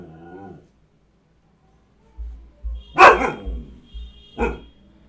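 A pet dog barks indoors: a few sharp, close barks in quick succession, the strongest in the middle and another near the end, with low thumps beneath and a brief whine at the start.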